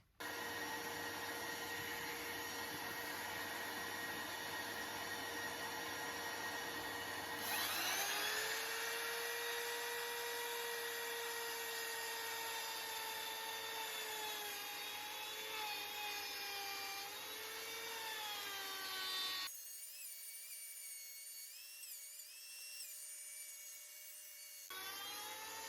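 A palm router cuts a small circle in wood on a circle-cutting jig. It gives a steady high whine that changes pitch as the bit bites, and near the end the cut stops and the motor runs freely.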